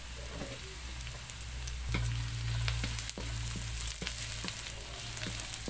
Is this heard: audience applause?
no